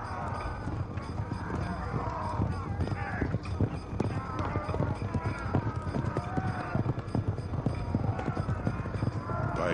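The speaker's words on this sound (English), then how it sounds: "The signal for attack is sounded, and the chariots charge." Assyrian chariot horses charge into battle, a dense continuous rumble of many hooves under a narrator's voice, with clattering and a faint whinny.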